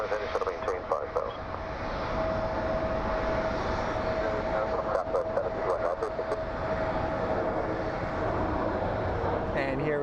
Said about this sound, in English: And here we have a little CRJ taxiing in.